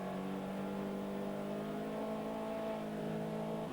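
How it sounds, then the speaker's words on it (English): A Caterham Vauxhall Challenge race car from 1994 drones and pulls hard on a circuit near the Graham Hill Bend, its engine note a steady, fairly faint mechanical hum that holds throughout. "In comes the power, the car trying to break away."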